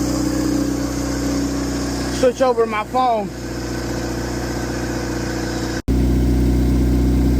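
A Honda Integra engine idles steadily after a fuel pump and relay repair, a constant low mechanical hum running throughout with a brief spoken phrase over it partway through.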